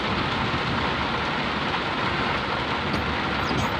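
Heavy rain pours down in a dense, unbroken roar, loud and close, with no voices.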